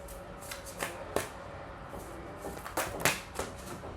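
Tarot cards are shuffled and drawn by hand, giving a run of soft riffling flicks and sharper snaps at an irregular rhythm, close and moderately loud, with no talking.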